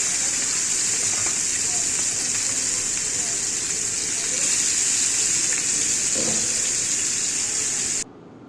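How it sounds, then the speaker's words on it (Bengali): Rohu fish pieces frying in a pan on a stove, a steady loud hiss and sizzle running continuously throughout, then dropping off sharply near the end. "মাছগুলো একটা একটা করে ফ্রাই প্যানে দিয়ে দিলাম"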